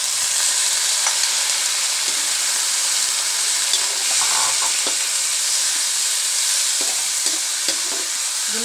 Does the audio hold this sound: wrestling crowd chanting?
no